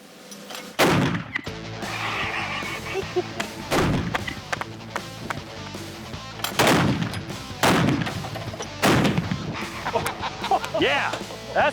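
Cannon fired five times at a target about 75 yards downrange, each shot a loud, close boom separated by a few seconds, with voices and ambient noise between the blasts.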